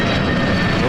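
An Avianca airliner approaching to land at Toronto airport, a loud continuous jet engine roar filling the moment with someone talking over it.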